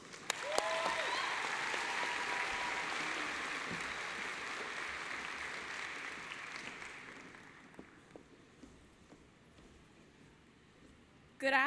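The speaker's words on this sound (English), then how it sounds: "Please give them a round of applause." An audience at a high school graduation ceremony applauds loudly at first, then the clapping thins and fades over several seconds into near quiet, followed by a brief sharp sound at the very end.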